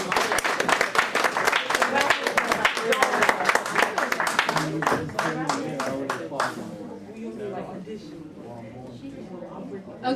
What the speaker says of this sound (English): Give Aya another round of applause.